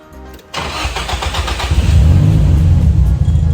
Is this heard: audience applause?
no